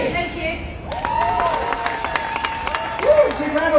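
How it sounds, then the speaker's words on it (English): A crowd at a Free Palestine rally in Melbourne claps and cheers for a speaker, scattered sharp claps and whoops over open outdoor ambience, with people talking and calling out throughout. "Big round of applause for Jason, everyone!"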